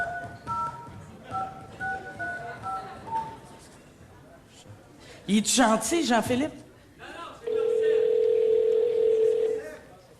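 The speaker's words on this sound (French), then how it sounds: "On fait le numéro" A telephone number is dialed as a run of short touch-tone beeps, followed by a burst of laughter and chatter, then a steady dial tone holding for a couple of seconds; someone speaks briefly in French.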